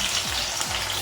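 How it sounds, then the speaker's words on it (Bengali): Onions hitting hot oil on a high flame sizzle and crackle in a steady, close fry, with a couple of quick stirring scrapes through the short burst. "এবার দেখুন তেল গরম হয়ে গেছে, এই পেঁয়াজ দিয়ে"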